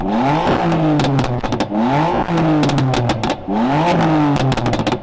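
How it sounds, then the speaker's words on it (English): An older BMW M4 fitted with a pop-and-bang modification revs hard and loud up close, several rising engine sweeps each followed by sharp crackling bangs from the exhaust. "the owner of that car has fitted a thing to make it pop and bang"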